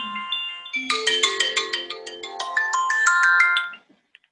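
Gentle Shabbat morning alarm tone, a soft melodic ringtone of bright chiming notes in a rising, bell-like pattern, clear and close, lasting a few seconds before stopping.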